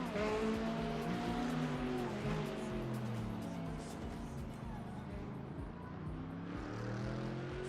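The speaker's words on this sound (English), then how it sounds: "Oh, the car sounds nice." GT3 race car engine at Daytona in iRacing, a steady loud engine drone with shifting pitch sweeps as revs rise and fall, continuous throughout.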